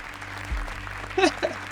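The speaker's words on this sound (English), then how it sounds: "Apparently this audience wants to keep applauding." A live game-show studio audience applauds, with a soft sustained clatter of clapping under a brief spoken voice.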